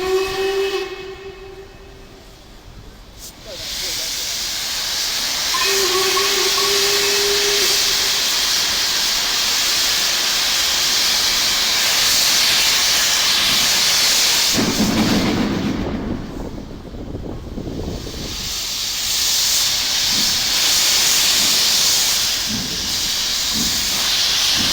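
Loud, steady steam hiss from a model steam locomotive on an OO gauge railway layout, with a short whistle-like tone early on and a burst of chuffing and louder venting midway.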